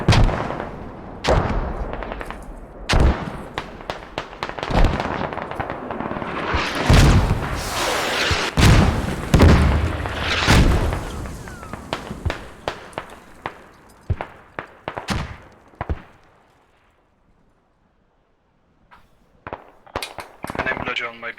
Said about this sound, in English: mortars takes out a couple guys over here